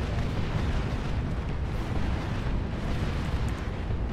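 Artillery barrage explosions in a fantasy battle game, a continuous, heavy rumble of overlapping booms at a steady loud level, with no speech over it.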